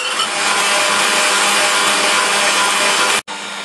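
Milk being beaten into a Galician requesón (curd cheese) tart batter, a steady continuous whirring and scraping that holds unbroken for several seconds before a brief cutoff near the end.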